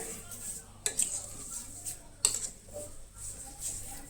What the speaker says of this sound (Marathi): आनी साखर बरी मिक्स करून घेतलें.